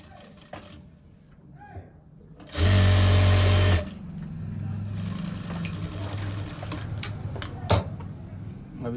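A sewing machine stitching pants gives a loud, close burst of about one second, followed by a softer lingering whir and light handling noises.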